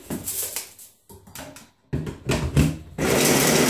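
A small Lidl electric chopper whirs in short bursts, chopping two garlic cloves and half an onion, with brief pauses between pulses and a longer steady run at the end.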